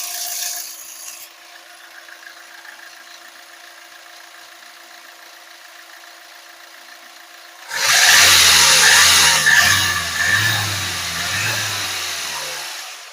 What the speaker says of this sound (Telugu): ఇంజన్ అయితే చాలా స్మూత్ గా అయితే ఉంది.